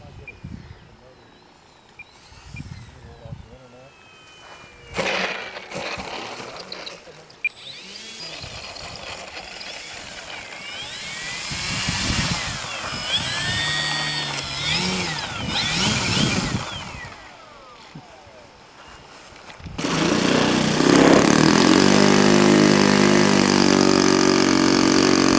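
An RC helicopter, the new Uproar, on a windy-day test flight, its motor rising and falling in pitch with a whine, people talking nearby, then a loud, sustained buzz up close near the end.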